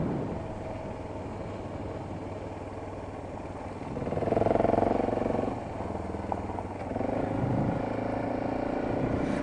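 A motorcycle rides along a gravel stretch of State Highway 38 with a steady engine drone and a rough crunch of tyres on loose stones, swelling briefly louder midway, with no talking.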